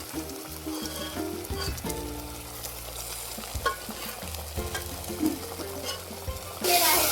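Mutton sizzles loudly in a hot pan while it is stirred, with a continuous crackling fry and intermittent scraping, ending in a brighter hiss.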